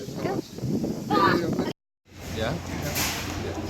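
Strong outdoor wind buffeting the microphone in gusty rumbling waves, cutting out for a moment and then returning just as loud.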